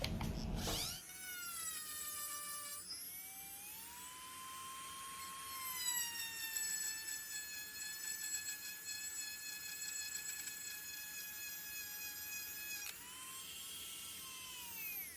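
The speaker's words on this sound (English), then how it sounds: "we'll give a little cut on some metal here" A Hardell rotary tool fitted with a cutoff wheel cuts into metal, its high steady whine rising as it spins up, holding a constant pitch under load for several seconds, then dropping slightly near the end, close and continuous.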